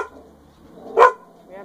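Indoors, a dog gives a single sharp bark, with a fainter yelp following moments later, both heard at a modest distance against a quiet room.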